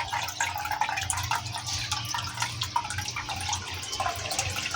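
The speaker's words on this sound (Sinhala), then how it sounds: "ඔතනින් වැටෙන වතුර පාර දැන් ටැංකිය පුරාම මෙහෙම කැළදිලා මේ පැත්තෙන් තමයි යන්නේ" Water pours steadily into an outdoor arowana pond tank, a continuous splashing and trickling stream close by with no voices over it.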